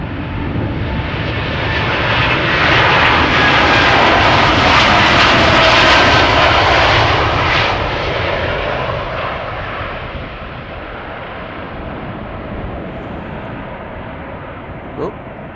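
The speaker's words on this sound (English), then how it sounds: "KLM flight 605 to San Francisco, 787-10 Dreamliner is also coming this way." A KLM Boeing 787-10 Dreamliner passes at Schiphol Airport, its loud broadband jet engine roar swelling to a peak and then slowly fading, heard from a distance across the airfield as a continuous rushing drone.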